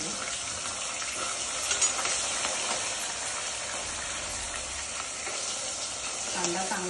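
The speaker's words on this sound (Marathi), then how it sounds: "कांदा चांगला फ्राय करून घ्यायचा" Chopped onion fries in hot oil with whole spices and turmeric for a vegetable dum biryani: a constant bright sizzle with scraping stirs and occasional louder crackles.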